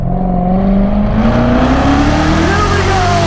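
Chevrolet Corvette engine screaming under hard acceleration, pitch climbing steadily, loud and close, with a voice briefly heard over the engine.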